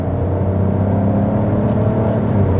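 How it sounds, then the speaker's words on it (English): A DS 3 PureTech three-cylinder engine hums and pulls steadily under acceleration, a low, gruff drone heard from inside the cabin at a constant level. "you get a nice, discreet but gruff 3-cylinder sound"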